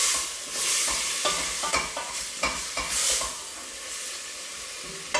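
Steady sizzling of vegetables frying in olive oil, with occasional stirring scrapes and clinks from a pan, no voices.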